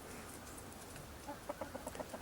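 Two big brown chickens cluck softly in a short series of quick, rhythmic calls over quiet farmyard background noise.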